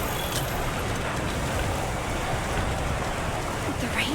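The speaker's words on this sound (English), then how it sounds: "The rain's really coming down." Heavy rain pouring down in the video game Monster Hunter Wilds, a dense continuous hiss of falling water that stays loud and steady throughout, with no voices.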